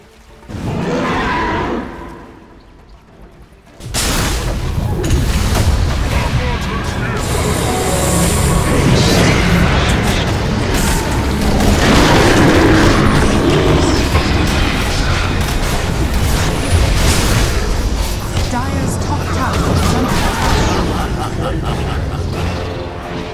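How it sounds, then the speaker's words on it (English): Dota 2 tower under attack during an Ursa carry match: dense, continuous game combat with booming impacts and clanking mechanical hits, loud and steady after a brief quieter opening. "Radiant's bottom tower is under attack."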